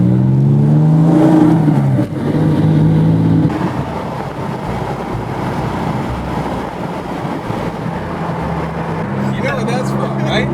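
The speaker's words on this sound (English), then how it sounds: "we're going to go out, hit the rev limiter" A Porsche 996 GT3 engine revs hard up to its rev limiter, a loud, close, sustained high-rpm drone that dips briefly before holding steady near the limit.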